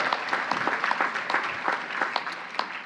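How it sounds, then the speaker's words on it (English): A commencement crowd applauds family members, with sustained, even clapping from many hands filling a large space at moderate distance. "Let's give them a big round of applause"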